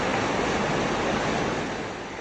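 Strong floodwater rushes during a typhoon rescue in Puerto Princesa City, Palawan, a dense, loud, continuous roar of churning water that eases slightly toward the end.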